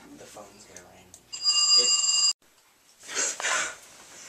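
Telephone ringing indoors, one loud, bright electronic ring lasting about a second that cuts off abruptly, with quiet voices before it and a brief noisy stir afterward.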